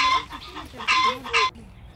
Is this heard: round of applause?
no